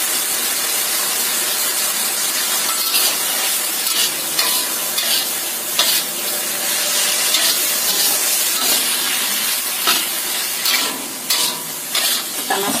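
Continuous loud sizzling of food being stir-fried in a hot pan, with scraping and stirring noises throughout and no voices.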